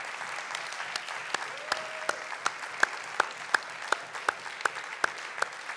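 Church congregation applauding, a dense patter of clapping with steady rhythmic claps standing out at regular intervals, moderately distant and fairly soft.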